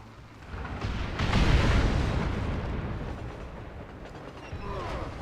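A train bridge blown up in Red Dead Redemption: a loud, rumbling explosion swells about a second in, then a long roaring, crackling tail of debris and low booms that slowly fades under continued noise.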